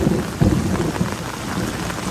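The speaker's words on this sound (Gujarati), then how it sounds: "તો વરસાદ હજી ચાલુ જ છે." Heavy rain pours steadily over fields in a downpour, a dense continuous wash of noise with low rumbling underneath, loud and close.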